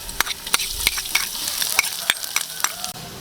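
Ginger and garlic sautéing in a pan for adobo: a steady close sizzle broken by sharp, regular scrapes and clicks of stirring, roughly every third of a second, with no voices.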